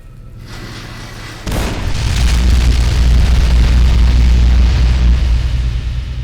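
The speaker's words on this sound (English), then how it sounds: "Grenade!" A grenade goes off in Fallout: New Vegas with a sudden loud boom, followed by a long, heavy rumble that fades slowly over several seconds, with no speech.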